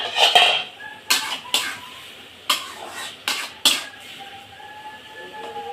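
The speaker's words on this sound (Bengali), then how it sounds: "আমি ঢাকনাটা তুলে নিলাম" Several sharp metallic clanks and scrapes of a pot lid being handled, spaced irregularly over a few seconds, close by with no talking.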